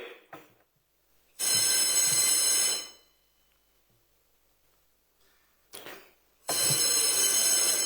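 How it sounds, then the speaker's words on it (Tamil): A quorum bell in a legislative assembly chamber rings in long electric bursts: one lasting over a second, a short blip, then another sustained ring, separated by near silence in a hushed hall. "பேரவை முதன்மை செயலாளர் அவர்கள் அழைப்பு மணியை, அதாவது கோரம் பெல் 3 முறை ஒலிக்க செய்வார்கள்"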